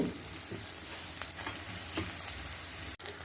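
Onions sautéing in a pan for a drumstick flower egg stir-fry, a steady soft sizzle close up with light crackles and occasional stirring scrapes, no talking.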